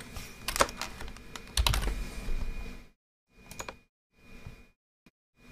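Keys clatter on a computer keyboard as guest email addresses are entered into a calendar invite, a quick burst of quiet, close typing followed by short pauses and a few scattered clicks.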